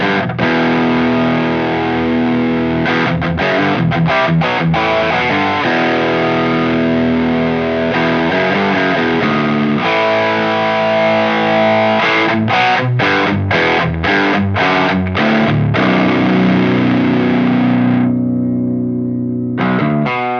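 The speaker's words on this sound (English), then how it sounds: "So it's a very tube screamery overdrive." Electric guitar played through a Horizon Devices Precision Drive overdrive pedal, with loud, continuous distorted riffs of chugging palm-muted chords and sustained notes, ending in a brief ringing decay.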